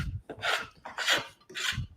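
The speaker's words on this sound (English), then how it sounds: "I can remove an awful lot more material with that scorp" A scorp gouges wood from curved dovetails in three separate rasping strokes, each a close, scraping pull with short pauses between them.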